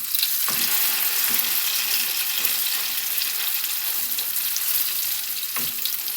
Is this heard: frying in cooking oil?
yes